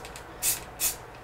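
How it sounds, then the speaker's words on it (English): Short hissing bursts of primer from a spray can, applied over carved 3/4-inch letters, come as two distinct spurts with a third starting at the end, close and fairly quiet. "now I'm spraying this with our primer."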